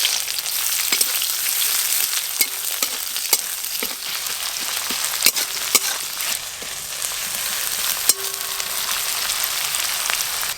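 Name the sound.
black cumin and chopped onion frying in mustard oil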